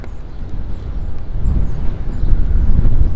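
Wind gusting and rumbling against the microphone, swelling louder toward the end, with no voices.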